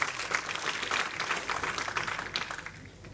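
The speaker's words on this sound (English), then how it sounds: "Appreciative crowd here at Blackpool." Crowd applause at a bowls match in Blackpool, a steady wash of clapping throughout that thins out slightly toward the end, with no voices over it.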